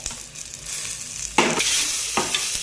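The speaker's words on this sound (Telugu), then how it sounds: "నెక్స్ట్ టమాటాలు కూడా వేసుకొని ఆనియన్స్ లాగే ఒక 2 మినిట్స్ ఫ్రై చేసుకుంటే" Onions and tomatoes sizzle and crackle in a hot pan for pappu pulusu, with loud bursts of frying as they are stirred, close and without talk.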